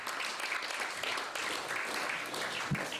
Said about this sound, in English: Let's give them a big round of applause, please.